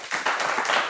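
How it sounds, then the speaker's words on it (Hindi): A crowd at a playground-style show applauds together, a dense burst of clapping that starts abruptly and holds steady and loud for about a second. "एक बार अपने लिए ताली बजा दो"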